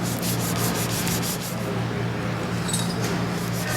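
An acrylic-finished wood pen blank is wiped dry with a cloth on a lathe, giving a steady, close rubbing scrape that runs unbroken throughout over a low motor hum.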